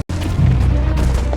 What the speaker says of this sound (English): Explosions rock the city.